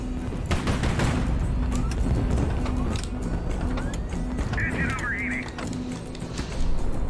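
Heavy cannon fire from large warship guns in the video game HighFleet: loud, dense booming bursts and rumbling volleys sound continuously throughout.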